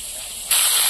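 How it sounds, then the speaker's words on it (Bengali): River fish frying in hot oil gives a steady sizzling hiss that jumps suddenly louder halfway through, close and continuous with no talk over it. "মাছগুলো ভাজা হয়ে গেছে, তুলে নেবো।"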